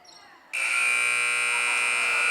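A loud, sustained electronic buzzer blares at a high school girls basketball game as the quarter ends, cutting in sharply over crowd and commentary noise and holding steady.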